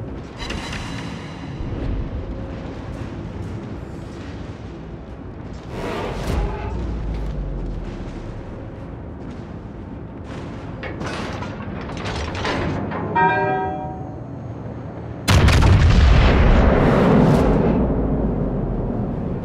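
Warship guns boom repeatedly in a World of Warships naval battle with a Yamato battleship, dense rumbling salvos over a constant engine and water bed, ending in a loud close blast.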